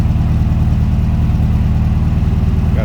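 A 1976 Steyr-Puch Pinzgauer all-terrain vehicle engine running close and loud, a steady low rumbling idle with a regular pulsing throb.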